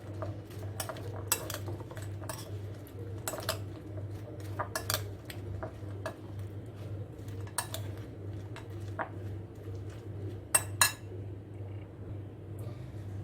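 A spoon mixes potato chaat with tamarind in a bowl, making scattered sharp metallic clinks and taps over a low, steady hum in the room.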